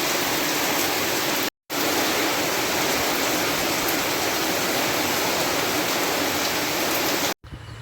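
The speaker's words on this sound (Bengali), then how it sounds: "টিনের চাল থেকে বৃষ্টি গড়ায় গড়ায় পড়তেছে" Heavy rain pouring and dripping off a tin roof, a dense continuous loud wash of water noise with two very brief dropouts, no voices.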